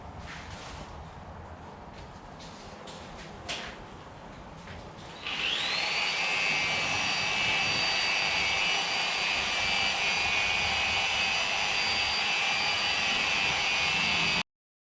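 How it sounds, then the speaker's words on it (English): A polishing machine spins up partway through and buffs the paintwork of a Ford AU Falcon. It holds a loud, steady whine close by after quieter handling noises at the start, then stops abruptly. "now we'll give it a buff"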